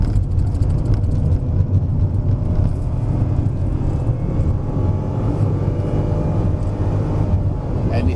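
A Perodua Ativa with a 1.0-litre turbo engine climbs the Genting hill road, making a steady, loud, low engine drone and road rumble heard from inside the cabin, with no gear changes and no clear talk.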